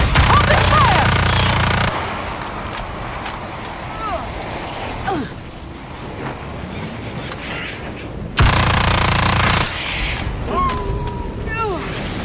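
Gunfire in an action game, loud bursts and booms under shouted game dialogue and a steady rumble, with sharp whistling tones near the end.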